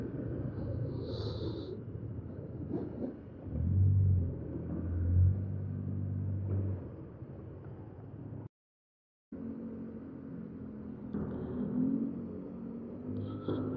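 Rumbling city traffic in slow congestion heard from a motorcycle taxi, engines idling and grumbling nearby with occasional louder revs, fairly quiet overall with a brief dropout midway.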